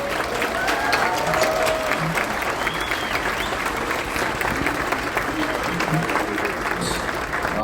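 A large audience in Edmonton applauds steadily to welcome Shaun King and Professor Khaled Beydoun, a dense, sustained wash of clapping with faint crowd murmur and a stray whistle, loud and even throughout.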